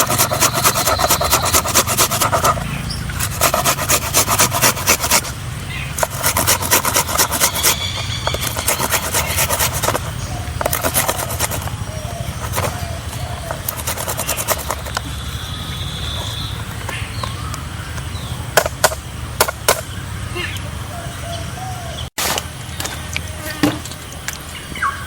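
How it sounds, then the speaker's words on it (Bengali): An ingredient for Bengali dab chingri is grated by hand in fast rhythmic bursts of close rasping strokes. The strokes later thin out to sparser scrapes and a single knock. "আজকে আমরা ঘষে দেবো এটা।"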